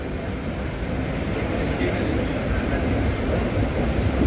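The 12052 Jan Shatabdi Express rumbles steadily into Thane station, a loud, continuous roar of wheels and carriages with no break or lull.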